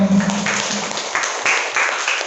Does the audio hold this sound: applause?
yes